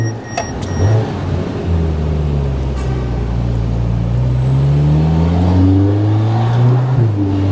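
Mercedes A45S AMG powering up the main hill of the Monaco Formula One circuit, its engine note climbing steadily in pitch with a strong, close, continuous drone and some road roar, no voices.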